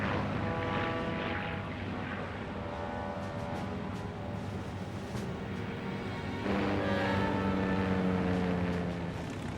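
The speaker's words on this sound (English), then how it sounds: "one by one, the bombers lumbered down the flight deck and clawed their way off" Propeller-driven B-25 Mitchell bombers taking off one by one from the deck of the carrier Hornet in World War II, a loud, steady droning engine roar that swells louder near the end.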